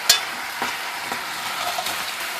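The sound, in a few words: chicken searing in a pot with sugar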